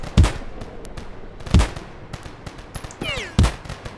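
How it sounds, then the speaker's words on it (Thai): Three sharp, loud gunshots in the video game Poly Field, spaced well apart, with a faint sweeping whine between the last two. "โหเสียงปืนคือแบบลั่นมากตอนเนี้ย"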